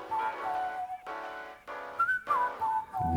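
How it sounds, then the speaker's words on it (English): A melodic whistle in an NCT U K-pop song carries a tune in several phrases over soft music, with brief pauses between lines. "Bring back in the whistle."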